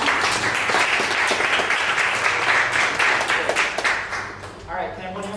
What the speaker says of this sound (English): a round of applause for you from our team